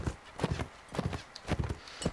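Horse hooves clip-clop in a steady rhythm of paired strikes in the Mount & Blade: Warband video game. The hoofbeats sound fairly close and moderate in level, with no voices over them.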